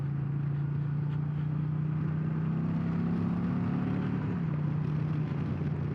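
A 2025 Indian Chieftain PowerPlus 112 motorcycle cruises in fourth gear at highway speed, around 60 mph and 3,500 RPM, with a steady low engine drone mixed with wind rush and a slight pitch rise partway through.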